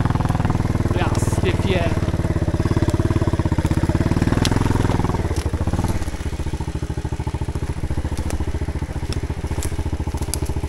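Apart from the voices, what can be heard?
Loncin 110/125 motorcycle engine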